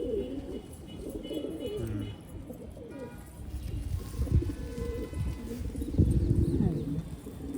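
Pigeons coo in soft, repeated low throaty calls while people talk nearby over a steady background.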